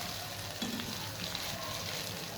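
Crushed garlic fries in hot oil in a pan, a soft continuous sizzle with faint crackle, fairly quiet and steady, no voices.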